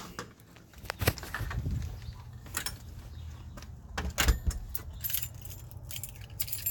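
Keys jangle and clink in several short bursts close by while car doors are unlocked and opened, with light handling knocks and faint outdoor background.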